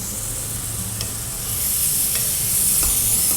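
Food sizzles steadily in a hot pan on a gas stove while being stirred, a dense frying hiss that grows louder partway through, with a few faint scraping clicks and no talking.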